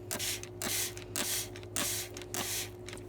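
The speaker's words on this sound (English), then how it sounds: "It does say to go ahead and mist this guy." A spray bottle mists a basil grow kit in about five quick, close hissing bursts at an even pace, with no one talking.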